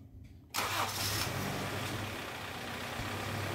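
A first-generation Honda CR-V cranks and fires up after a moment of quiet, then settles into a steady, close engine idle.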